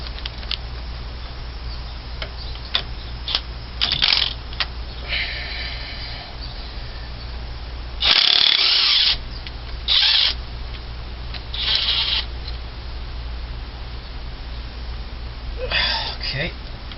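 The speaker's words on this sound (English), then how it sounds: "I'm going to be using the impact wrench again" Impact wrench removing the crankshaft bolt from a 1978 Continental Mark V's Ford 400 engine, firing in several short loud bursts separated by pauses, with a steady low hum underneath throughout.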